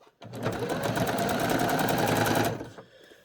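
A sewing machine runs a long, even zigzag stitch along a skirt hem over yarn for gathering, one steady continuous whir of about two seconds, close and loud, starting and stopping abruptly.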